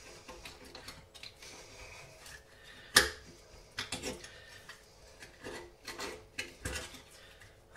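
A knife works its way into a fresh scallop shell, faint scraping and clicking against the shell with one sharp crack near the middle, followed by scattered small scratchy taps.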